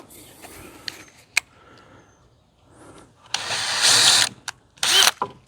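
A power drill bores pilot holes through a pre-drill template into wood at a workbench, with a few short whirring bursts and clicks followed by a longer loud drilling run and a final burst, close and clear.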